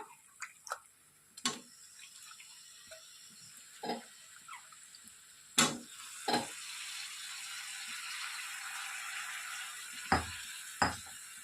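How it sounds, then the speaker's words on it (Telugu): Chicken tipped into a pan of fried masala for a Telugu-style chicken roast: a few sharp clatters and knocks, then a steady, fairly faint sizzle that keeps going, with no talking. "ఇప్పుడు శుభ్రంగా కడిగి పెట్టుకున్నటువంటి చికెన్ని వేసేసుకుంటున్నాను"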